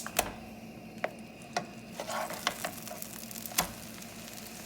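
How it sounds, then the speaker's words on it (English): Salisbury steaks frying in a pan give a low, continuous sizzle broken by sharp, irregular clicks and taps of a utensil against the pan, close and moderately quiet, with no one speaking. "Okay, so I've got my Salisbury steaks cooking."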